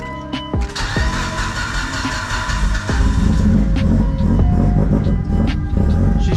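A Mitsubishi Evo 8 engine cranks and fires up on its stock ECU, then settles into a loud, rough, throbbing idle close to the microphone. It runs poorly, and no one speaks.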